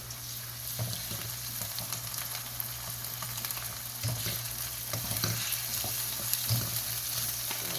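Chicken pieces frying in a pan for Chinese biryani, a steady sizzle with occasional clinks and scrapes of stirring over a low hum, moderately quiet.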